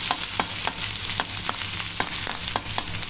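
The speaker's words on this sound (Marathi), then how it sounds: "आता आपल्याला कांदा मात्र हलकासा सोनेरी कलर येईपर्यंत भाजून घ्यायचा आहे." Chopped onion fries in a pan, a steady sizzle broken by soft, rhythmic scrapes of a spatula stirring about every half second, close up, with no one talking.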